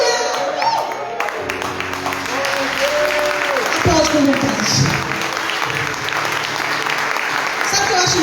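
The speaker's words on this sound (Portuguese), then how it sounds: "Aplaude com vontade." A church congregation breaks into loud, sustained applause, with dense clapping, scattered cheers and voices calling out throughout.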